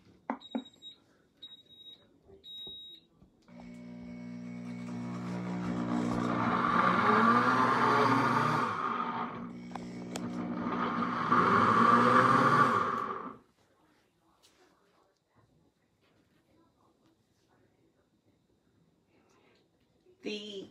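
A Pampered Chef Cook Blender starts on its soup setting: a few short beeps, then the motor hums and whirs steadily for about ten seconds before going quiet.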